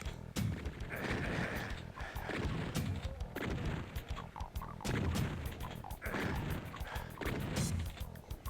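Chaingunner enemies in Doom 2 fire in repeated bursts of rapid gunshots, loud and close, with short gaps between volleys amid other game sounds.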